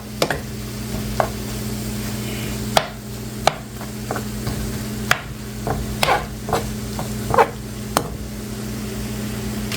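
Tofu scramble with nutritional yeast being stirred in a pan, giving scattered spoon scrapes and taps over a steady low hum, close and fairly quiet.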